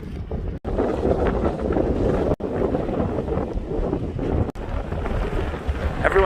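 Strong wind buffeting the microphone at a beach on Marco Island, Florida at sunset, a loud continuous roar with gusty surges and no voices.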